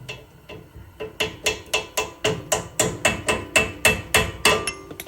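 Hammer tapping out a worn trailer wheel bearing, a steady run of about twenty sharp metallic strikes at an even, brisk pace, loud and close with no talking.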